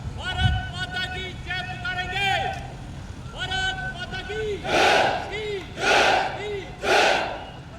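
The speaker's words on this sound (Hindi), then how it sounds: "भारत माता की जय घोष से पूरे वातावरण को गुंजायमान करने के उपरांत" A crowd at a flag ceremony parade chants in loud, rhythmic bursts, with a leader's calls answered by three strong group shouts of a patriotic cry, echoing across an open parade ground.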